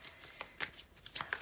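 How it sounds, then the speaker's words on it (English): Thick tarot cards being shuffled by hand, a run of crisp riffling bursts in quick succession, close and fairly quiet, with no voices. "if this shuffling is loud, I'm sorry. It's just because the cards are thick."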